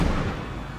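A single booming gunshot from a guard in the border-checkpoint game Papers, Please: one heavy, low blast that dies away over a fraction of a second.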